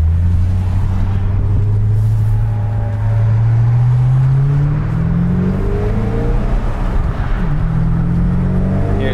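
A 2008 Ford Mustang GT500 with about 540 crank horsepower accelerates hard through its gears, its loud engine note climbing, dropping at each shift and climbing again, heard from inside the car without talking.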